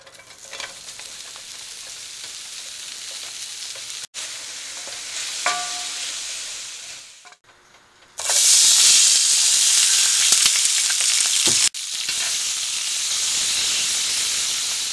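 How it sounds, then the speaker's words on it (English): Mushrooms and red peppers sauté in a pan for a backcountry soba noodle meal, giving a steady close sizzle and hiss with stirring scrapes, briefly quieter, then louder frying after a pause. "I like to sauté the mushrooms and red peppers."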